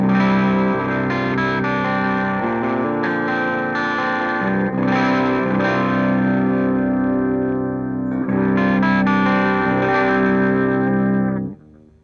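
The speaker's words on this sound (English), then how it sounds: "So let's listen to the super badass with the gain at 0." Electric guitar through an MXR Super Badass Distortion pedal with gain at zero into an Orange Dark Terror amp set clean, loud sustained chords and notes with mild grit, played continuously alone.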